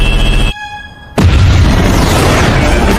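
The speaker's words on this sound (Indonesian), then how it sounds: "Finn pun langsung mengeluarkan sejumlah peledak agar kapal itu meledak." A ship blown apart by explosives in the animated film Cars 2, a sudden massive boom after a brief hush, then a loud sustained roaring rumble of debris and fire, with no speech.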